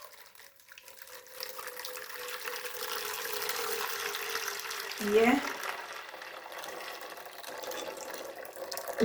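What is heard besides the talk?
pouring coconut milk into a pot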